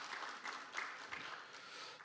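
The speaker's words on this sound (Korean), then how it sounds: "장시간 수고해 주신 패널 여러분께 다시 한번 뜨거운 박수 부탁드리겠습니다" Audience applause for the panelists at the close of a Korean human rights forum session on workplace gender discrimination, a steady, moderately loud wash of many hands clapping in a hall for about two seconds, with no talk over it.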